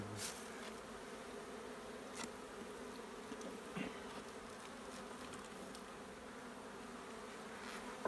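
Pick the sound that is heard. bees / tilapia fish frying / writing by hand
bees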